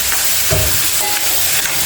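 Tomato frying in hot oil makes a loud, continuous hissing sizzle up close with a few soft stirring knocks, and nobody speaks.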